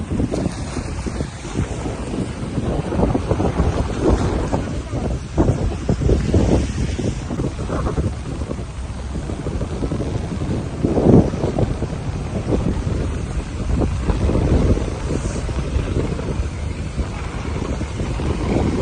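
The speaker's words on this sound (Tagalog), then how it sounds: "Mahangin ngayon dito, guys." Strong wind buffets the microphone in constant gusts out on the open sea, with a rough roar of large waves and open water underneath, no voices.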